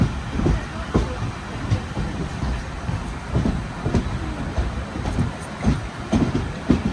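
Netravati Express rolling along the Konkan Railway, heard from inside a sleeper class coach: a continuous low rumble broken by regular rhythmic wheel clacks over the rail joints, fairly close and loud.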